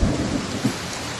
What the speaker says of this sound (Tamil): ஏய் மழை வருதுடா என்னடா மழை வருது